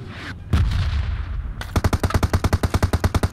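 Gunfire in PUBG Mobile: a couple of isolated loud shots, then a rapid, evenly spaced automatic burst of about fifteen rounds fired at a bot, close and loud with no talking.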